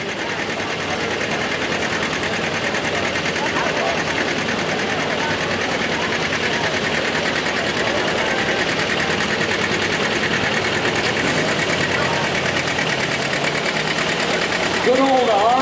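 A 638 Ford truck in the modified 4WD class, pulling at a night tractor pull, its engine a dense, continuous roar that stays loud from start to finish, with an announcer talking over it.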